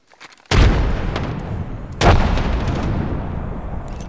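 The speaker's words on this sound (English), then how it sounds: "Delivering frag." A frag grenade going off in the shooter game Apex Legends: two loud, close booming blasts about a second and a half apart, each leaving a long rumbling decay.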